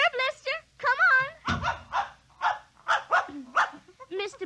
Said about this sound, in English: I'm going to introduce you to my puppy dog, Mr. Blister.